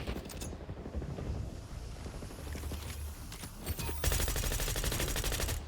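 Enemy gunfire in Black Ops 6, a steady crackle of automatic shots that grows louder and denser toward the end, with no talk over it.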